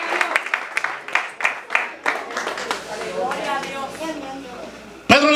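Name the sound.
congregation applauding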